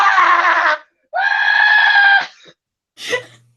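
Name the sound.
voice imitating a Wilhelm scream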